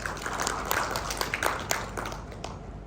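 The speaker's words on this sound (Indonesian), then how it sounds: "Berikan tepuk tangan bagi dia." A church congregation claps together during a sermon, a dense burst of hand claps with sharper individual slaps standing out, fairly close and sustained for a few seconds.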